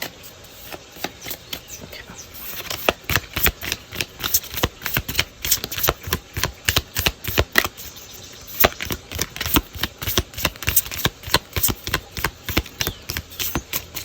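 Small affirmation cards shuffled by hand, giving a steady run of quick papery riffles and flicks, close and fairly loud, with no talking.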